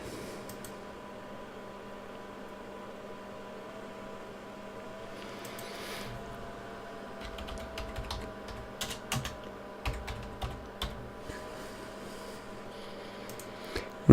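Typing on a computer keyboard to enter a web search, starting with faint hum before a run of key clicks and taps that grows busier and closer in the second half, with no talking.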